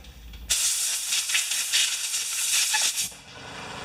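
A Honda HRA214 lawn mower carburetor part gets a rinse, with a steady loud hiss of spray that starts abruptly, runs about two and a half seconds and cuts off.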